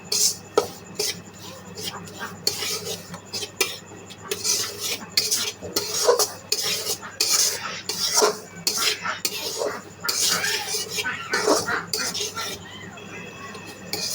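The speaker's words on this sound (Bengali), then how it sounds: "এটাকে ভালোভাবে নেড়ে চেড়ে ভেজে নিতে হবে" Vegetables stir-fried in a pan, with a utensil scraping and clinking against the metal in a steady, irregular rhythm close by. A faint background hum runs underneath.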